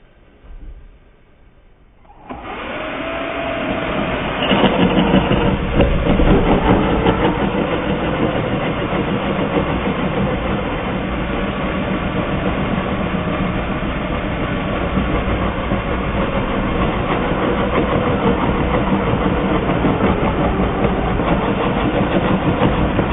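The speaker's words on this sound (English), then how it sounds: "then get to work with the jigsaw" A jigsaw cuts through wood on a workbench, starting after a quiet moment with a loud, continuous buzzing rattle that holds steady for the rest of the stretch, with no talk over it.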